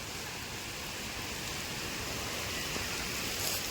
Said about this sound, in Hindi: कम बारिश है थोड़ी बारिश हो